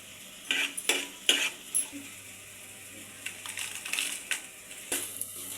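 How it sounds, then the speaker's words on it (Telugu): Dried red chillies fry in oil while a spoon stirs them, heard as a faint sizzle under bursts of scraping and metallic clatter against the pan. "ఎండిన మిరపకాయలు వేసి మంచిగా గోలించుకొని"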